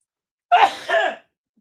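A single short, sharp sneeze up close, two quick bursts of breath and then silence.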